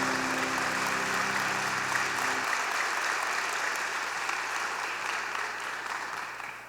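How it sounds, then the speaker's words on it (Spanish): Steady, dense applause from a church congregation welcoming the Holy Spirit, a broad continuous clatter of many hands that holds level throughout and eases slightly at the very end. "Denle el aplauso de bienvenida al Espíritu Santo"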